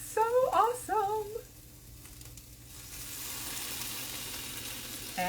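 Chicken fajitas sizzle loudly in a preheated cast iron pan, then settle into a steady, softer hiss; a voice briefly exclaims near the start.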